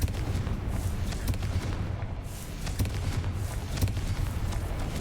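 A Confringo spell blast in Hogwarts Legacy, a dense, continuous rumble of booming, gunfire-like bursts that stays loud throughout with no voices.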